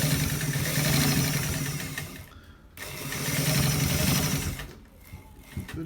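A sewing machine stitches a V-neck top in two sustained, close bursts of rapid mechanical whirring, each fading out briefly before the motor picks up again. No talking.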